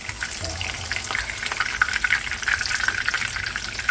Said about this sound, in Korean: 아주 바삭바삭 튀겨 보시고요